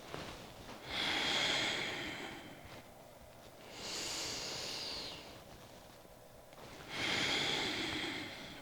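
Slow, deep yoga breaths, each a long audible inhale or exhale drawn through the nose or mouth, three rounds spaced a few seconds apart with quiet pauses between them.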